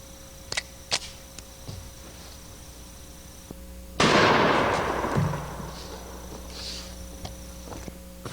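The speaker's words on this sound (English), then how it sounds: "muzzle blast of this thing's pretty severe" A single powerful shot from a big gun booms nearby and hits water bottles. A long, decaying roar follows, with a few lighter clicks and knocks before and after.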